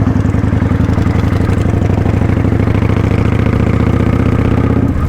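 A motorcycle engine runs steadily during a ride, a loud, close, rhythmic low rumble with a clattering pulse that holds evenly throughout.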